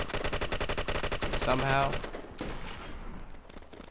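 Rapid automatic gunfire in the online shooter Red Crucible Firestorm, a dense, loud burst of shots for about two seconds, then quieter scattered fire, with someone talking over it briefly.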